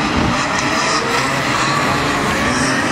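Modified sedans roar together at the start of a heat at Rockhampton Speedway, a loud, dense wall of racing engines with tire noise, steady and close for the whole stretch.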